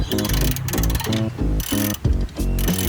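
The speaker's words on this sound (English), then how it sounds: "Next thing we're going to take this sensor off. Just the 4 mounting bolts." Rapid ratchet clicking in repeated bursts as a hand ratchet undoes the four mounting bolts on an intercooler sensor of a Nissan GU Patrol during an intercooler upgrade, loud and close with short pauses between strokes.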